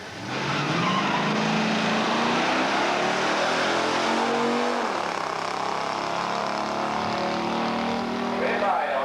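A 69 Daytona Hemi and a 71 Javelin 401, both automatics, roar down a drag strip in a 1985 muscle car showdown at Beech Bend, with loud sustained engine noise and shifting pitch under continuous announcer commentary.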